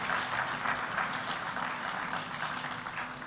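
An audience at a paperless civil service gala and awards night applauds in a hall, a dense, even wash of many hands clapping at moderate distance, sustained throughout with no talking.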